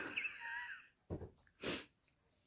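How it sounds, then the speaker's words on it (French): A person indoors sneezes once, close to the microphone, with a short sharp burst after a stretch of quieter breathing and a faint sniff at the end. "J'ai éternué."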